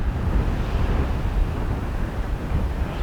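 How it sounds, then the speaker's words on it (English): Steady wind roars and buffets the microphone at a beach near Larnaca, with a low rumble, continuous and fairly loud, with no voices. "Plenty of wind today."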